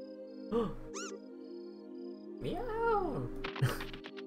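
Short, distinct cat meows from Trails in the Sky sound twice, first a quick mew, then a longer rising-falling cry, against a quiet game backdrop with soft background music tones.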